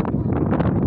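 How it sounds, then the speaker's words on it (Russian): Strong wind buffeting outdoors, a steady low rumble with gusty swells, loud and close as it hits the microphone. "На улице ветрено."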